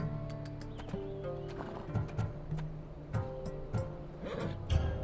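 Horse in the video game Assassin's Creed Odyssey, clip-clopping hooves and repeated whinnies with snorts, moderately close at a low game-audio level.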